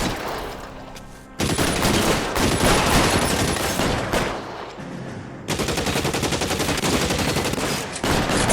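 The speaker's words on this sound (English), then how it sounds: "Shots fired and suspects are down." Gunfire in a shootout from the video game L.A. Noire: dense bursts of shots and rapid automatic fire come in loud, sustained volleys, briefly easing before another intense barrage starts.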